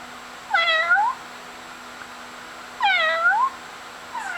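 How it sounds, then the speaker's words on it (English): A cat meows twice, clear and close, each a drawn-out rising-and-falling call, with a third meow just starting at the end over a faint steady hum. "Can you meow like the kitty?"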